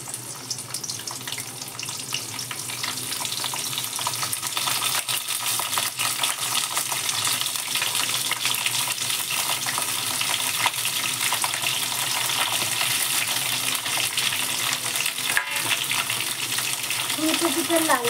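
Cauliflower fries in a pan, a loud dense sizzle that builds after the first couple of seconds and holds steady, with occasional metallic clinks and a faint voice at times.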